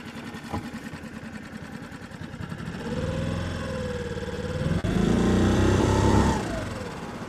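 A small Hangkai 6.5 hp four-stroke outboard motor runs on the water with a steady buzzing drone, its pitch sweeping up and down as the throttle changes, growing louder toward the end.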